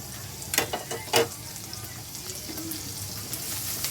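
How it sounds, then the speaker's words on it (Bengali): Chopped garlic and green chilli sizzling in hot oil for bread pakora filling, a steady frying hiss with a couple of sharp spatter bursts early on. "তেলটা গরম হয়ে এলে আমি রসুন কুচিটা দিয়ে দেবো"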